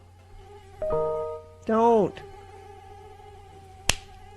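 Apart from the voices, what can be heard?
mosquito buzzing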